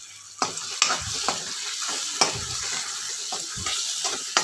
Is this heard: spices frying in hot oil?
yes